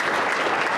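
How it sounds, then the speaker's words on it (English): A brief burst of dense clapping from an audience at a Dragoncon convention panel, loud and continuous with no pauses. "get a round of applause for our street team"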